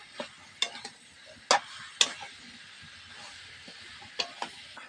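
Raw mango pickle with garlic and jaggery is stirred in a pan, a faint low sizzle broken by a few scattered sharp scrapes and taps of the spoon, close and quiet with no talking.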